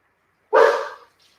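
A dog lets out a single loud, close bark, sharp at the onset and then fading, followed by near silence.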